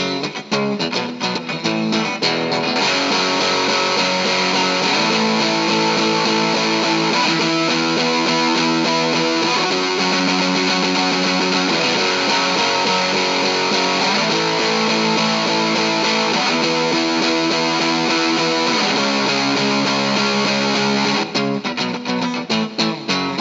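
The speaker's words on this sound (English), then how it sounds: "then I'll kick on the Guerrilla Warfare so you can hear the Procore Rat style distortion" An electric guitar runs through an Orange Rocker 32 amp with a Rat-style Guerrilla Warfare distortion pedal switched on, giving a loud, thick, saturated tone as rhythmic chords ring out continuously for about twenty seconds.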